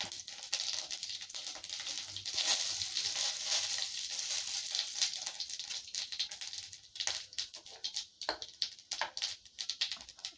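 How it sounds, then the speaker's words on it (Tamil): Mustard seeds, urad dal and chana dal frying in hot oil, a dense bright sizzle with crackling pops, loud and close at first and thinning into sparser spatters toward the end. "நல்லா பொரியுதுங்க."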